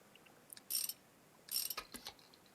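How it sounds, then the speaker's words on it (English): Ratchet tightening screws in a motorcycle mechanic simulator game, two short bursts of quick metallic clicking, close and crisp, followed by a few lighter ticks. "we gotta go around the other side to tighten those screws"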